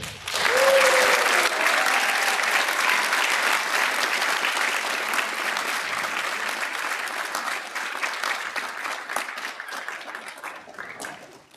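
Enthusiastic audience applause at a high school band concert as a senior is called to the stage, dense sustained clapping from a large crowd with a brief cheer near the start, tapering off at the end.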